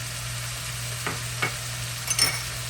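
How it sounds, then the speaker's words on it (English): Broccoli sizzles on high heat in a pan with a little broth, a quiet steady fry broken by three short scraping stirs near the end. "We're gonna keep that heat up high, so that juice will cook into the broccoli and not form more juice."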